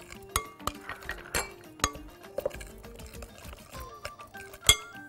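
Utensil clinking against a bowl while stirring an eggplant mixture for pickled eggplant, a series of sharp, close, irregular metallic taps with soft scraping between them.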